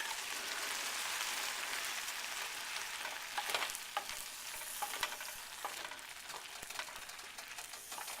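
Vegetables with tomatoes cooking in a pan, a steady hiss of simmering and frying with scattered sharp crackles and a few stirring clatters, heard alone up close.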